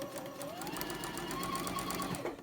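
Domestic sewing machine stitching rows of patchwork quilt pieces together, a fast, continuous mechanical whirr with rhythmic needle ticking, close and fairly quiet, running steadily without pause.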